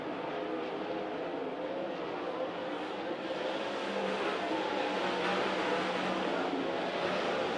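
Sprint cars racing around Kings Speedway, a loud steady roar of several engines blending together as the pack circles the track, with no break in the noise.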